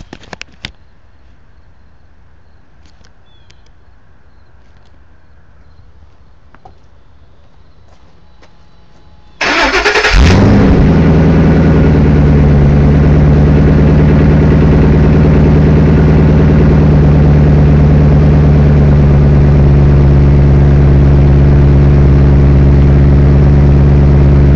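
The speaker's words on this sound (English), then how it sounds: "Ah, we got another cold start." Car engine cold-starting after a quiet stretch: a brief crank catches and flares, then settles into a loud, steady, rumbling idle that continues to the end.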